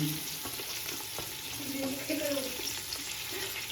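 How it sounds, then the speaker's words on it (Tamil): Mint and coriander sautéing with onions in a pan for prawn biryani, a steady low frying hiss with soft stirring scrapes running throughout, fairly quiet and unbroken. "ஒரு கைப்பிடி புதினா, ஒரு கைப்பிடி கொத்தமல்லி. கொஞ்சம் வதங்கட்டும் இவங்க 2 பேர்."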